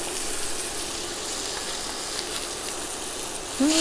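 Turkey cutlets fry in a hot pan with a steady, close, even sizzle and hiss, briefly flaring louder at the very end.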